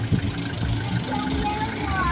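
A lowered car's engine rumbles at a car meet, a deep steady idle close by with people talking over it.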